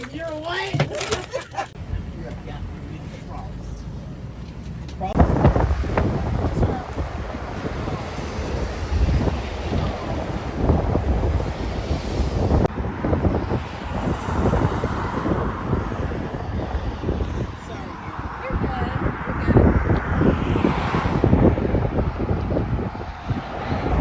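Strong wind buffets the microphone in heavy, continuous gusts with a roaring low rumble, rising and falling throughout.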